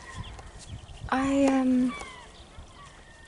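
A fowl by a path calls out close by in a loud, honking cluck of under a second. It stands alone between bits of quiet speech.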